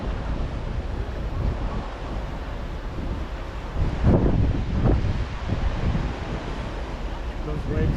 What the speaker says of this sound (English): Those waves crashing are reminding me of the ones we saw.